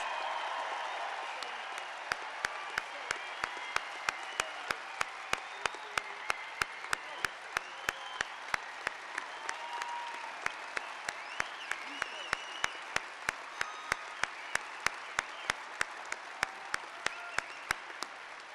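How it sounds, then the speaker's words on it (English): An outdoor crowd at the Lake Tahoe Summit applauds Senator Harry Reid, a broad, sustained wave of clapping punctuated by regular sharp clicks, with some voices mixed in beneath. "Give him a big round of applause."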